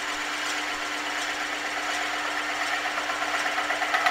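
Wood lathe spinning with a cutting tool held steady in a reference groove, giving a continuous broadband scraping hiss with a faint steady hum, close and alone throughout.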